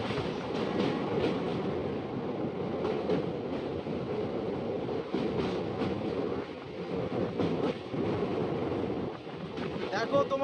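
A train crosses the river plain near the Sangam during the Kumbh Mela, producing a continuous rolling rumble and clatter with wind buffeting the microphone and occasional louder jolts.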